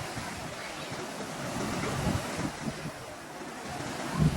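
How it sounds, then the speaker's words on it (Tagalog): Strong ocean waves surge onto a beach in a steady, close roar, with gusty wind buffeting the microphone and a heavier crash near the end. "Tignan nyo, sobrang lakas ng alon."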